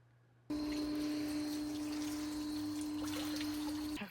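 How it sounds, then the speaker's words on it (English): An HVAC drain pump switches on and runs steadily, pushing creek water into a makeshift outdoor bathtub, with a constant motor hum and trickling water, closely miked and without talk. "We have established a hillbilly bathtub out here using an HVAC drain pump"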